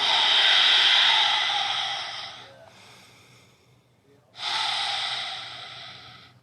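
Deep, forceful exhalations during a yoga session, two long airy breaths close to the microphone separated by a quieter pause, with no speech.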